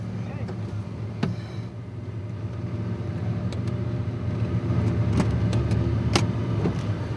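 A Studebaker car engine idles steadily with a low rumble, nearby and continuous, while people talk over it and a few sharp clicks break through.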